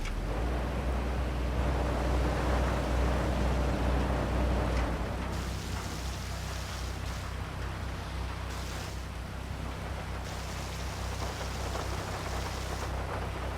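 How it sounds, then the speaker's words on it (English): Steady, dense rain hiss with a low rumble underneath, continuous and fairly loud throughout, with no voices; heavy rain in GTA V Online. "Now it's raining like crazy."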